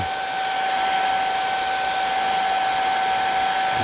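A hair dryer blows continuously at close range with a steady whine and airy rush, warming a custom-painted jerkbait lure to loosen its stencil.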